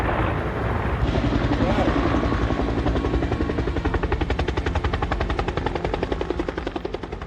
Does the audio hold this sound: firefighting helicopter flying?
yes